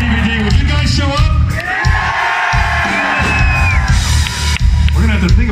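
A packed concert crowd at Hard Club in Porto, Portugal, cheers, whoops and yells loudly and continuously, with individual shrill screams rising over the roar throughout.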